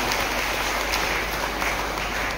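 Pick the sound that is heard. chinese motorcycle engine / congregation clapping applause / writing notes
congregation clapping applause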